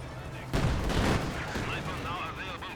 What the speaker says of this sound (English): a nasty shot there by the AT gun actually nails that T34 on the side armor